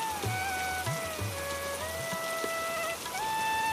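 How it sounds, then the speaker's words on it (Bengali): Steady cartoon rain falls evenly on a courtyard in a Bengali animated story, a constant hiss with a few faint tonal music lines and soft low thuds underneath. "আর যে বৃষ্টি শুরু হয়েছে, মনে হচ্ছে না আজকে বৃষ্টি থামবে"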